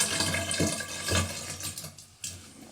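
Antifreeze poured down a drain pipe while winterizing household plumbing, a gurgling liquid stream with uneven splashes that thins out and then surges again, close and moderately quiet.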